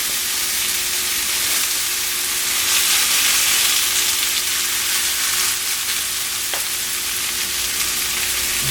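Veggie fritters fry in a pan with a steady, loud, close sizzle and crackle that holds evenly throughout, with no voices over it.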